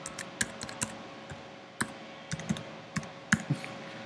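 Keys tapped on a Mac laptop keyboard while a password is entered: quiet, irregular clicks in short bursts with brief pauses, close by and with no talking.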